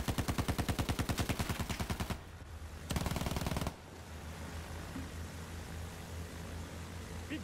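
Automatic cannon fire from a gunship in Battlefield 1, a fast rhythmic stream of loud shots in two bursts, followed by a steady rumbling engine drone.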